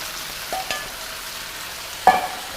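Beef and vegetables stir-frying in a hot wok, a continuous broadband sizzle with a couple of brief scraping stirs, close and steady with no voices.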